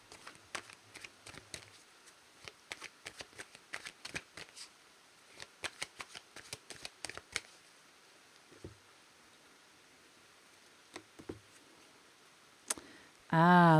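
Tarot cards being shuffled close by, a quick run of crisp riffling flutters and taps in the first half, then sparse faint clicks in a quiet room, ending with a short burst of voice.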